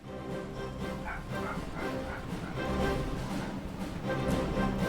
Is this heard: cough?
no